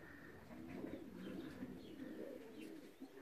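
Racing pigeons back at the loft after a 309 km race from Olsztyn coo softly and repeatedly, faint and low, with an occasional chirp and no one speaking.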